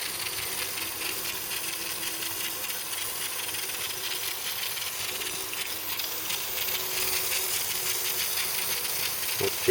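Brake cleaner sprays in a steady, continuous hiss onto axle bearing parts of a 220sb, wetting them down; the hiss holds close and fairly loud for nearly ten seconds with no talking.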